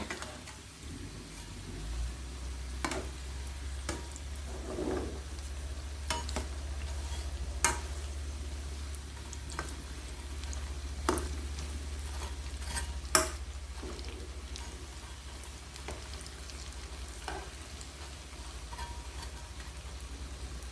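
Chili peppers fry in oil as a steady, fairly quiet sizzle and crackle, with scattered pops and a few louder snaps, over a constant low hum from start to finish.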